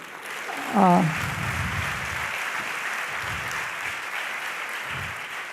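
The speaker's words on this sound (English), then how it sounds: "So you all are clapping for Swami, not for me." Steady applause from a memorial lecture audience fills the space, a broad wash of clapping that carries on evenly, with a brief voice rising over it early on.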